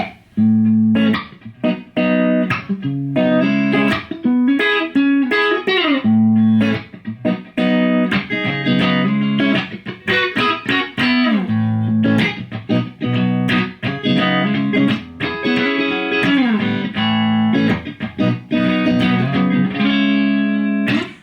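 An electric guitar, a Fender Ed O'Brien Stratocaster, plays loud, distorted rhythm chords mixed with melodic lead lines, continuous and driving for over twenty seconds with no talking.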